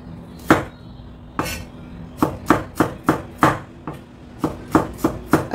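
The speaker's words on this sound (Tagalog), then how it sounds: "Alisin ang balat ng sibuyas, hugasan at hiwain ayon sa hiwa na gusto" A knife chops onions on a cutting board, sharp close knocks that start sparse and settle into a quick steady rhythm, with no talking.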